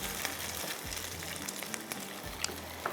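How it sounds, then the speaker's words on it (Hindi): Ingredients frying in hot oil in a pan for Delhi nihari, a continuous dense crackling sizzle with occasional sharper pops, close and steady throughout. "थोड़ा सा फ्राई हो जाए इस तरह से।"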